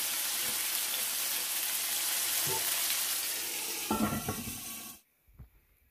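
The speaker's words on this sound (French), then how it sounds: "je vais mettre les morceaux de viande et je vais les faire dorer des deux côtés" Pieces of meat browning in a pot for a prune tajine give a steady, close broadband sizzle that runs for about five seconds, with a few clattering stirs near the end before it drops to near silence.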